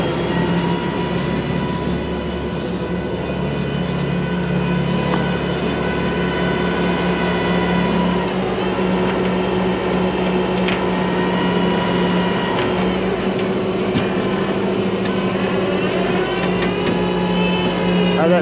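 A winch drags a wrecked Ford F150 pickup, a loud, steady mechanical drone and whine that shifts pitch partway through and runs continuously with a deep engine rumble underneath.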